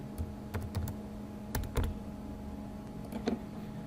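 Quiet clicks of typing on a computer keyboard, a few scattered keystrokes and small clusters of taps with pauses between them.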